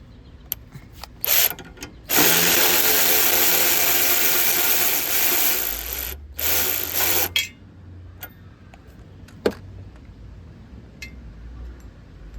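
An impact gun with a 10 mm socket spins off a bumper bolt on a wrecked Jeep Cherokee, giving a loud, close, buzzing burst of several seconds, then a shorter second burst, a few clicks and a low hum.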